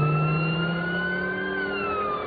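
An ambulance siren from the film Ambulance (2022) wails loud and close in long, slowly gliding tones over a low engine rumble.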